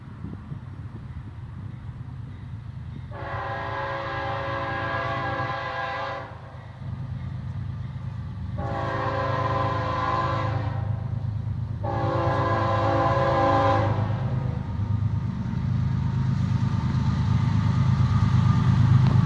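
A southbound freight train led by an ES44DC and an SD50-3 rebuild approaches under a steady low rumble. Its horn sounds three long blasts, and the roar swells louder as the train draws nearer.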